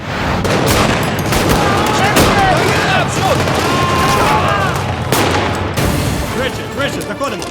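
Gunfire from a new machine gun fills a trailer for a war film about the Ukrainian Galician Army of 1918–1919, dense bursts and shots running continuously beneath a loud orchestral music and sound-effect mix.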